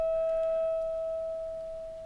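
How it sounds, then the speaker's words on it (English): Steady FM radio carrier tone heard through audio feedback during an FM deviation measurement, a single continuous pure whine holding level and fading slightly toward the end. "What you're hearing right now is just the carrier"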